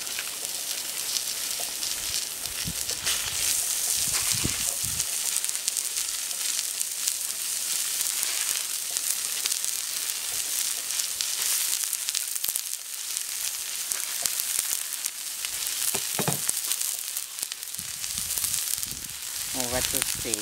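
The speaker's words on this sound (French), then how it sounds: "Donc là, on va cuire la viande." Burger meat cooking on a plancha griddle gives a steady, loud, hissing sizzle that fills the whole stretch, with occasional crackles and spatters and faint voices in the background.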